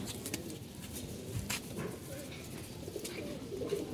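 A pigeon coos in low, soft, repeated murmurs close by, quiet under a busy background of rustling and other loft noise.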